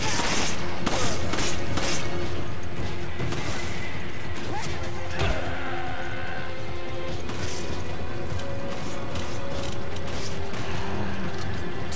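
Gunfire and crashing impacts in the video game Resident Evil 5, with sharp shots and smashes bursting out among dense game sounds, loud and close throughout.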